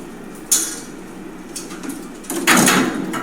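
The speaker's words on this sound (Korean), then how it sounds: "엘리베이터 안에 문을 먼저 닫고" An elevator's inner door is pulled shut during a rescue drill, producing a couple of metallic sliding scrapes and a louder clunk near the end against a steady mechanical hum.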